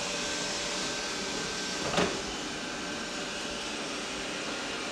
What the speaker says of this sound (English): Let's see if the vacuum goes up the ramp.